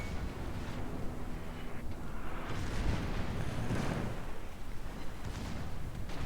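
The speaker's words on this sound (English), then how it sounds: "a good bomb drop on the Britannia" Deep rumbling booms from bombs striking the enemy battleship Britannia in a naval warfare video game, a dense run of blasts and rolling crashes with no speech.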